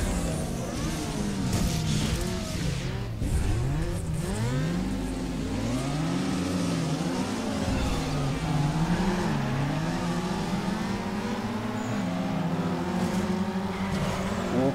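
Engines roar and rev through a drag race in Need for Speed Underground 2, with loud, continuous acceleration and rising, falling pitch sweeps as gears shift over the whole stretch.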